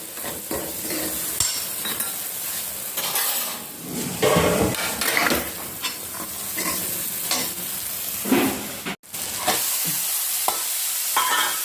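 Vegetables stirred and roasted in a pan with potatoes for a sabzi, a steady close sizzle of frying broken by repeated scraping strokes of a spoon against the pan, with a brief break near the end.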